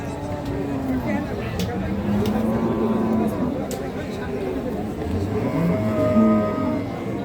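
Australian cattle at a busy Bangladeshi livestock market low on buyers, with a few drawn-out moos rising over a dense crowd murmur and steady background chatter.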